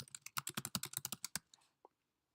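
Typing on a computer keyboard, a quick run of about fourteen crisp keystrokes over roughly a second and a half, then a couple of softer taps and a brief pause, close and clear with no voice.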